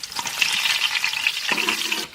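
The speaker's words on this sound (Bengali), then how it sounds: "লঙ্কা একদম সুন্দর ভাজা হয়ে গেছে।" Whole dried red chillies and bay leaf frying in hot mustard oil, a steady close crackling sizzle with stirring scrapes throughout, heard alone without talk.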